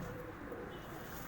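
A pigeon coos softly and continuously, its low murmur held close and faint throughout, as a high-flyer bird rests on a handler's hand.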